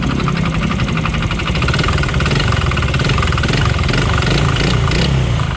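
A faulty, noisy Honda Click scooter engine runs loud and close in a repair shop, a steady rattly idle with a mechanical clatter throughout and no talking.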